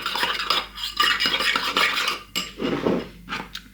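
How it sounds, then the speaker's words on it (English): A spoon stirs a chicken marinade of salt, pepper and seasonings in a bowl, with steady scraping and clinking of metal against the dish, close and fairly loud, broken by a short pause and a few brighter taps near the end. "I'm just going to give it a stir first"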